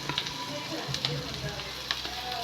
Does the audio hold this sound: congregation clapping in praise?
no